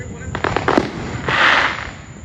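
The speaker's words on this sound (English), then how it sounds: "Fireworks going on." Fourth of July fireworks bursting outdoors in a quick run of four or five sharp cracks, then a louder rumbling boom that fades, fairly near and heard alone.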